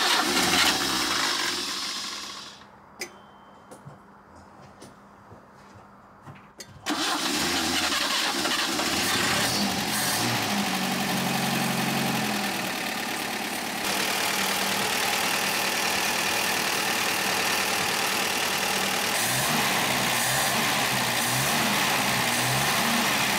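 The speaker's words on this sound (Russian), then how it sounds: "Заводим повторно мотор." An old Soviet car engine pulled from an abandoned garage is restarted after a short lull and keeps running, a loud, steady idle with slight changes in pitch that carries on to the end.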